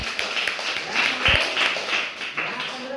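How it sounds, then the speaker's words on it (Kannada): Applause from a school audience at a waste-segregation awareness event, a steady wash of clapping at moderate level for about three seconds with a few sharper claps and a brief low thump. "ಜೋರ ಚಪ್ಪಾಳೆ"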